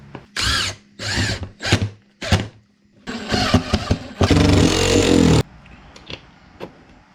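A screw gun drives bolts into a boat during a Multbar installation: several short whirring bursts come in a row, then a longer loud grinding run, all close up, with no voices.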